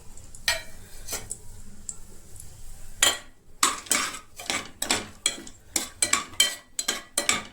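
Pulao whole spices tossed into hot oil in a home kitchen give soft sizzling, followed by a run of sharp metallic clinks and scrapes of a utensil against the pan, close and loud.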